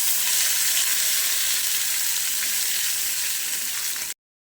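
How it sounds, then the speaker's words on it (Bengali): Dried chillies and black cumin sizzle in hot oil, a bright steady crackling hiss that holds evenly for about four seconds and then cuts off abruptly. "গরম হয়ে গেছে, দিয়ে দিচ্ছি শুকনো লঙ্কা আর কালো জিরে।"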